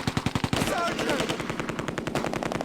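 Rapid machine gun bursts from the video game Close Combat: A Bridge Too Far, sharp repeated reports in quick rhythm, opening with distinct shots and continuing as dense overlapping fire mixed with other battle noise.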